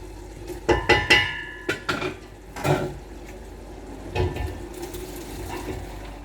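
Yam and beans porridge ingredients are poured into a pot, with a few clattering knocks of utensils against cookware and wet splashing pours, close and moderately loud, then quieter clinks.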